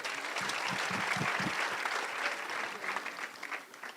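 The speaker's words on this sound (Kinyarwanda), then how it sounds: "mumfashe tubaha amashyi menshi cyane" Applause for the MCs at a graduation ceremony, steady and sustained from a crowd, heard at a distance with some individual claps standing out early on.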